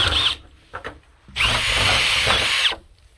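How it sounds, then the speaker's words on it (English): A step drill bit bores a straight hole in a heater part, with a short burst of drilling followed by a longer, loud, steady whine of about one and a half seconds, close up. "I'll have to use a step down drill bit"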